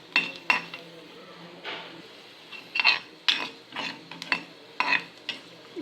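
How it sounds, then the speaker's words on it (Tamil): Cashew nuts roasting in a pan, stirred with a utensil that scrapes and clinks against the metal in repeated short bursts, close by with faint frying underneath; no talking. "முந்திரி பருப்பு பொன்னிறமாக வர வரைக்கும் வறுத்துக்கணும்."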